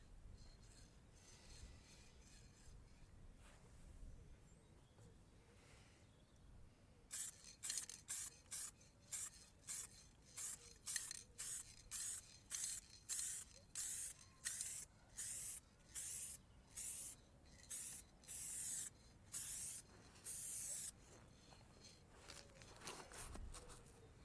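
Aerosol spray paint applied to the sill of a 1999–2007 Mk1 Skoda Fabia during underbody restoration, a run of about twenty short hissing bursts in quick rhythm after a quiet start, close and clear.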